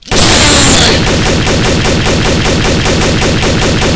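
Rapid automatic gunfire from a Trouble in Terrorist Town match, a loud, dense stream of shots going nonstop for the whole stretch after a sudden start, with no talking.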